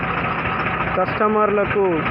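A lorry engine running steadily during an on-site engine carbon cleaning service, a constant low rumble with a voice talking over it.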